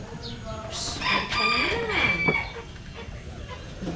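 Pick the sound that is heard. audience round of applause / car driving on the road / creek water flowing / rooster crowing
rooster crowing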